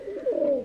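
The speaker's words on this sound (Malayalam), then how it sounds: "ഈ ആൺപ്രാവ്" A male pigeon gives a single short, low coo nearby, rising slightly and then fading.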